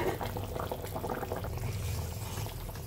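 Chhana (paneer) pakoras drop into a simmering potato curry, with soft liquid bubbling and plopping close by at a low, steady level.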